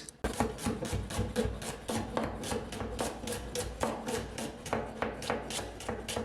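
Onion being chopped with a knife on a board for a burrito, a brisk and steady run of crisp, close taps repeating several times a second with no talk.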